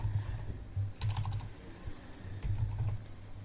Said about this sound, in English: Now type your